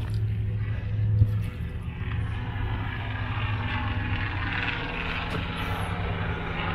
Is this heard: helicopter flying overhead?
yes